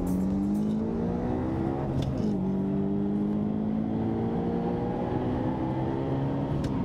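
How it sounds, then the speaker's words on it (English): A Mercedes-AMG SL65 with a V12 bi-turbo engine accelerating, a steady rising engine tone that drops back once as it shifts and then climbs again, heard at moderate volume throughout. "SL65 AMG, which has a V12 bi-turbo engine."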